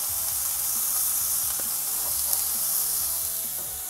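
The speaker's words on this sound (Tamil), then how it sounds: "இப்போ இது எல்லாத்தையும் கொஞ்சம் லைட்டாக வதக்கிடலாம்." Grated coconut and plantain mixture sautéing in a pan, a continuous bright hiss and sizzle with occasional light stirring scrapes, steady and close.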